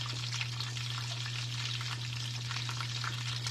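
Cream cheese block, cut into four pieces, melting and heating in a hot pan with heavy whipping cream while a wooden spoon stirs it; a steady close sizzle runs throughout, with no talking.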